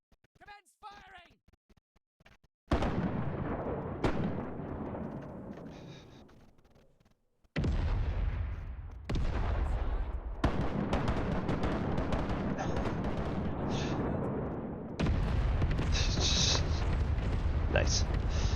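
Ship cannons firing in the pirate naval game Rise of Piracy: several heavy booming volleys, each a loud broadband blast that decays slowly, recurring every few seconds over faint background sound.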